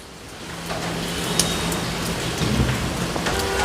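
Heavy rain falls steadily during a thunderstorm, a dense hiss of drops with low thunder rumbling underneath, loud and continuous throughout.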